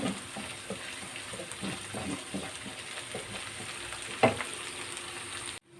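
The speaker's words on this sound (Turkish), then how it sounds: "Evet arkadaşlar soğanımızı güzelce kavurduk" Onions sizzle steadily in a pan while a utensil stirs and scrapes. One louder clink comes near the end before the sound cuts off.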